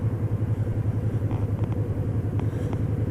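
Motorcycles ride together to the season opening in Vladivostok in wind and rain: a close, continuous pulsing engine rumble with a steady throbbing rhythm and no voices.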